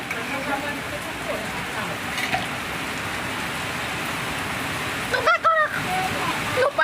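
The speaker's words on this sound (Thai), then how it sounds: "แมนค่ะฝนตก" Rain falls steadily in a continuous hiss near a home kitchen, with a voice breaking in briefly near the end.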